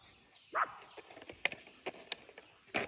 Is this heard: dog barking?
yes